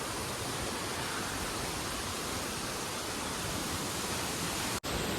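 A hidden waterfall near Panshet dam gives a steady, dense roar of rushing water that fills the whole stretch evenly and never lets up, with no voices over it.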